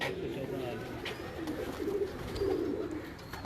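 Breeder pigeons kept by a fancier in Nowshera Virkan coo in low, throaty, rolling bursts, close and steady, with the calls swelling louder toward the end.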